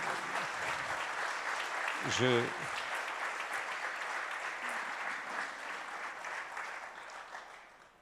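A debate audience applauds scientist Yves Coppens as he is welcomed: a continuous bed of many hands clapping throughout, with a short voice rising briefly over it.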